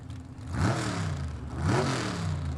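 A gasser drag race car engine at the pre-stage blips its throttle twice, each rev climbing sharply and then settling back to a rough idle, heard moderately close.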